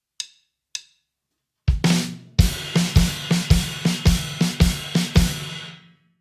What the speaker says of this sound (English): Now if I take that dynamic spectrum out of this groove,